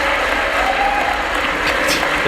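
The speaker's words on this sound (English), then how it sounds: "We can clap for ourselves." A group claps for itself during a House Speaker vote, with dense, steady applause held at a constant level throughout, with faint crowd murmur and a few scattered cheers.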